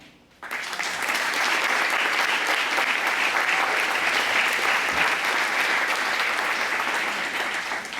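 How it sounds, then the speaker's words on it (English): Audience applause for a tap dancer named a Texas Tap Legend, a loud, dense, sustained ovation that starts abruptly and holds steady for about eight seconds with no talk over it. "Always the ones to start the applause for his tap abilities"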